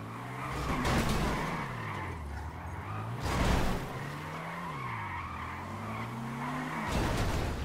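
Car drifting in GTA 5, a Maibatsu Penumbra FF, with engine tones rising and falling between repeated loud tire skids, about four bursts of squealing over steady engine noise.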